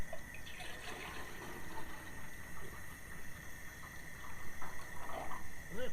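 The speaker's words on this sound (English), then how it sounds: "we're going to add some water so we can get this water boiling" Water poured into a metal canteen cup for boiling, a soft continuous trickle with gentle burbling swells, close but quiet, with a faint steady tone running underneath.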